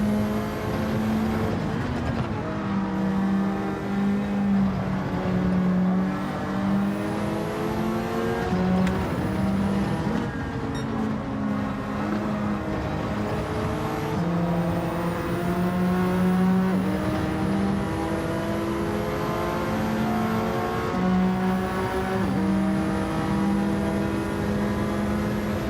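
Race car engines in Gran Turismo 7, close, loud whining revs climbing and dropping repeatedly through gear changes and braking, sustained without pause.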